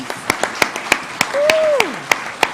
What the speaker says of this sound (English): Give them all a big round of applause and welcome our new citizens.